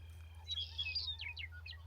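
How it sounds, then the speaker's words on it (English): Wild birds calling at a prairie migratory bird area west of Rugby, North Dakota: a few faint, distant chirps and tweets over a low steady rumble, with no talk. "There are just birds everywhere."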